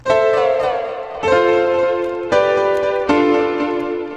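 A PN Bullet Grand Piano software plugin plays slow chords, four struck notes ringing into each other, bright and close with no voices.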